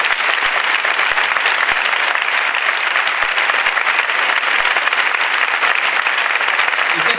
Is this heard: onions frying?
no